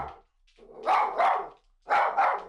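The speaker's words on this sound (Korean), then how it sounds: "그렇게 짖어도 소용이 없어." A small dog on a leash barks excitedly at a visitor in a family home, two loud close bursts of double barks with short pauses between them.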